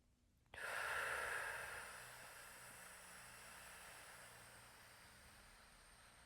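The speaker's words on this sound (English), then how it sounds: "It has to be a slightly quieter breath." Slow, quiet breath during a calming breathing exercise: a soft, airy rush that starts abruptly, swells, then fades into a long, faint, steady hiss, with no talk.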